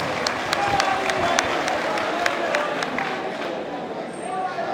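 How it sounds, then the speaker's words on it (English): A crowd at a convocation lecture claps steadily, a dense patter of applause with sharp individual claps standing out, continuing throughout at an even level. "let us give a round of applause"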